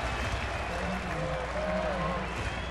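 Baseball crowd in a stadium cheering and applauding late in a game, a steady wash of distant noise under a commentator's talk.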